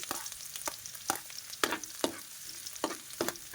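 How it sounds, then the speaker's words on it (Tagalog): Garlic sautés in a pan as the base for pakbet, with a soft sizzle broken by a series of sharp scraping stir strokes at irregular intervals, close and quiet, no voices. "Ganyan lang, gisa lang natin si bawang."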